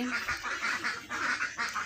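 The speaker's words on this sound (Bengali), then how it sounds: "এই যে হাঁসগুলা দুপুরবেলাও বাসায় এসে পড়ছে" Village ducks back home at midday quack close by in a quick run of repeated, nasal calls, about six or seven bursts in under two seconds.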